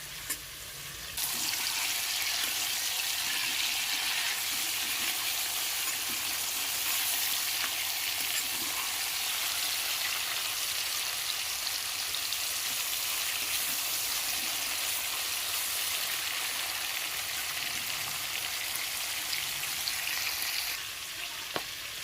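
Chicken pieces frying in hot oil in a pan, a loud continuous close sizzle running for about twenty seconds after a quieter opening, steady and unbroken, with no voices.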